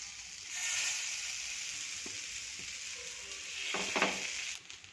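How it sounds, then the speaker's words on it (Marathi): Masala bread frying on an oiled pan over a gas stove, a soft, continuous sizzle with a gentle hiss that rises and falls, plus a few light scrapes of a spatula near the end, no voices. "आता याला छान आपण शालो फ्राय करून घेऊया गॅसवर मी पॅन ठेवलेला आहे त्यावर तेल लावलेलं आहे"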